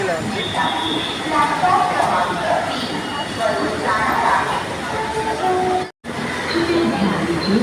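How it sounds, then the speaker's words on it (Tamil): Busy Pune railway station ambience with rumbling train noise and the clatter of cars, voices chattering throughout, and a brief dropout near the end. "Poona railway station"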